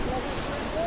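Sea waves wash continuously along the beach at Dwarka, a broad steady surf roar mixed with wind buffeting the microphone.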